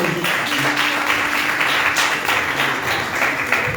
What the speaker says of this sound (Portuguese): Palmas para a nossa equipe de música.